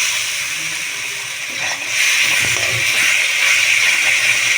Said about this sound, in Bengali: খুব ভালো করে পেঁয়াজটা আমি মশলার সাথে কষিয়ে নেব